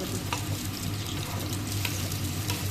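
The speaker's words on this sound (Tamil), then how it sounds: "மஞ்சள் போட்டு நல்லா வதக்கவும், நல்லா கிண்டி விட்டு" Fresh turmeric fries and sizzles in hot oil while being stirred, a steady crackling hiss with soft scraping strokes of the spoon, close and continuous.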